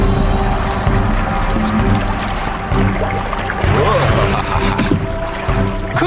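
Water splashing as someone makes waves, a continuous loud sloshing and churning close by with faint voices mixed in.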